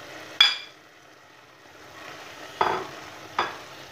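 Crayfish goes into a sizzling sauce for tilapia, a soft background fry broken by three sharp bursts of stirring and scraping, with the first burst loudest.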